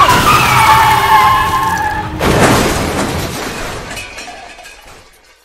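A car skids with a long tire screech, then crashes with a loud impact and shattering debris that rings out and fades to quiet.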